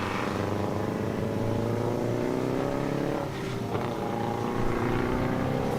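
Saloon racing cars pass on a circuit during a classic race meeting, a loud sustained engine drone with shifting pitch as the leading cars sweep by close together, no talk.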